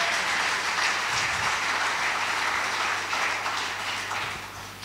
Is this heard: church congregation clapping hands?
yes